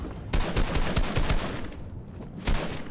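Rapid Fortnite gunfire rings out in uneven bursts of sharp cracks, loud and close, with a short pause near the end before a final shot.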